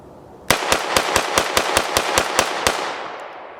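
A Kimber 2K11 Comp DS 1911-style pistol with a ported barrel and slide fires eleven sharp shots in a fast, even string, loud and close, ending in a short fading ring.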